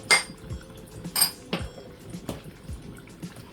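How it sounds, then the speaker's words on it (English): A spoon stirs yam porridge seasoned with crayfish powder in a pot, making several sharp clinks and scrapes against the metal with a wet, bubbling undertone, close and moderately loud. "I'll give it a good stir."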